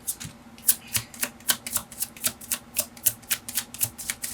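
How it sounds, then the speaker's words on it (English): A deck of tarot cards is shuffled by hand, giving quick, close, crisp riffling clicks in a steady rhythm, about three or four per second, with no talking. "And you can see that I'm shuffling."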